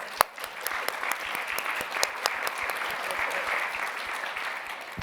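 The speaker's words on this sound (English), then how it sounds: "I think that deserves another round of applause" A small conference audience claps steadily for several seconds, moderately loud, with a few sharp individual claps standing out from the rest.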